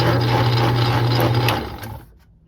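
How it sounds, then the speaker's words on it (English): A slowly turning 1940s metal lathe with a small handmade wooden knob rattling back and forth on it, giving a close, steady mechanical whir and clatter that fades out near the end. "Don't mind the little handmade wooden knob rattling back and forth"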